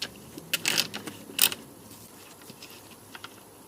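A 5.5 mm socket wrench turns on a fuel level sender from a Porsche 928. It gives brief, close ratcheting clicks in two short bursts, then a few faint ticks.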